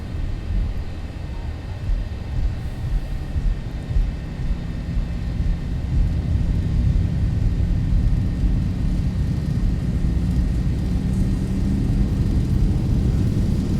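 Boeing 737-800 engines spooling to takeoff thrust in X-Plane 11 on a runway departing Phoenix: a steady, loud roar and deep rumble that builds slightly and holds for the whole stretch, with no talk over it.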